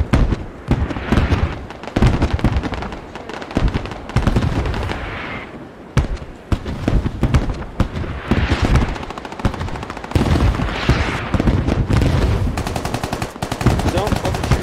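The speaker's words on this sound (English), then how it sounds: "Shots from Bradpo. I'm not sure what they're shooting at." Dense video game gunfire in SquadOps, with rapid automatic bursts and scattered single shots crackling steadily throughout, some close and loud, others more distant, with occasional brief gaps between volleys.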